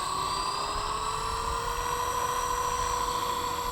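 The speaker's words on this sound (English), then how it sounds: "Let it spool up some, and then we throttle up and take off." Blade 230 S RC helicopter with its rotor spooling up, a steady high-pitched whine and whirr with a slowly rising tone, close and constant throughout.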